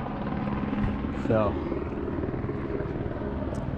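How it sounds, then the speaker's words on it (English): Steady rotor drone of a helicopter fills the background, with a short spoken word over it partway through. "that's the helicopter."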